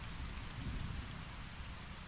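Steady rain falling, a soft continuous patter and hiss with a low rumble underneath, even and unbroken throughout.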